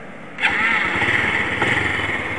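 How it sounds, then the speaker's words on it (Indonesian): An underbone motorcycle engine cranks on its electric starter and catches at once, settling into a steady close idle hum that runs on alone. "setelah dinetralin baru nyalain starternya seperti ini"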